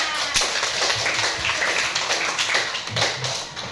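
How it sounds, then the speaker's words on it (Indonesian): Scattered clapping from a classroom group, fairly quiet and uneven, with individual claps popping out over a steady wash of hands. "beri tepuk tangan"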